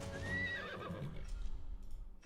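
Horses neigh in the video game Age of Empires Mobile, a single clear whinny with a rising then falling squeal, followed by light clip-clop hoof noise in the game mix, quiet overall.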